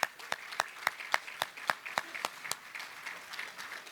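Applause at the South Bay economic forecast event for the competition winners thins out to a handful of distinct, evenly spaced claps that soften and trail off over a few seconds.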